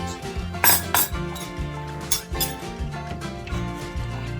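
A cup set down in a kitchen, with several clinks and taps of ceramic and cutlery, close and moderately loud, in an uneven sequence.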